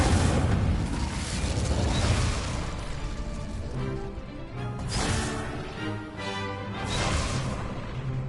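Fire spells cast again and again in the wizarding game Hogwarts Legacy, a steady roar of bursting, crackling blasts with fiery whooshes that swell and fade in repeated waves, close and loud, without speech.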